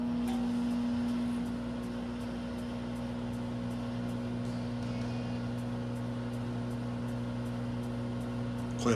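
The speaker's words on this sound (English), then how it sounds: "So let's go to the microwave and pop this bad boy." A microwave oven runs steadily while cooking pork rinds, a constant low electrical hum with a faint rhythmic ticking, quiet and alone with no voices.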